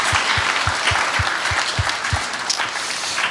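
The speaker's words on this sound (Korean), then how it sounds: "우리 그동안 수고했다고 박수 한번 쳐주십시다." A church youth congregation gives sustained applause, a loud, dense clatter of many hands close by, with a steady rhythmic beat of synchronized claps pulsing underneath.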